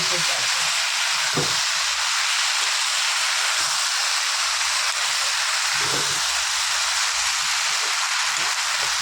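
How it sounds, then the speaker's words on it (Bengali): A loud, dense sizzle of mixed vegetables with tomato frying in a pan runs without pause, with occasional soft knocks of stirring underneath. "আরও একটু ভাজা ভাজা হবে"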